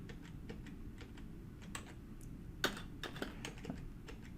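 Quiet, close keystrokes on a computer keyboard tap out a sudo rmmod command in an irregular run of light clicks, with a few sharper key presses near the end and no voices.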